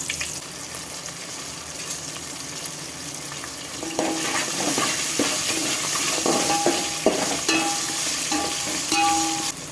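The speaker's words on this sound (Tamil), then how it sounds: "கடுகு வந்து பொரிஞ்சிச்சு." Mustard seeds spluttering in hot oil for a vendakkai puli kuzhambu, a soft hiss that grows louder partway through, dotted with sharp pops and clinks of a utensil against the pan, close by and without speech.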